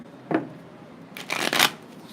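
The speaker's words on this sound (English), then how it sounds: "I feel like I need one more shuffle." Tarot cards are shuffled by hand, giving a short riffle followed by a longer burst of quick fluttering card slaps, close and crisp in a quiet room.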